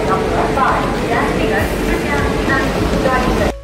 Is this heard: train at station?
yes